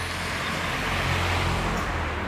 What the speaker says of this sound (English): More cars.